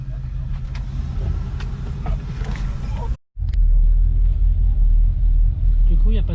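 Riding inside a Ford Mustang: a steady low engine and road rumble fills the cabin, cut by a brief dropout midway, with voices talking over it.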